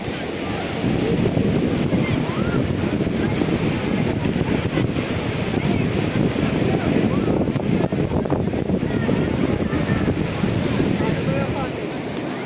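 Water from six large pipes gushes into the Sarayu river at Ayodhya, a loud, steady broadband rush that fills the whole stretch without letup.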